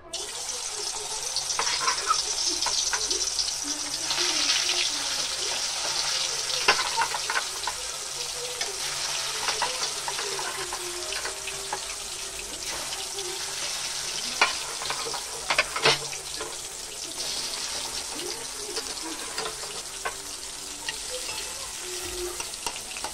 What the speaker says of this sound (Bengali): এবারে মাছগুলো ভেজে নেবো। এই যে মাছ, নুন হলুদ মাখানো।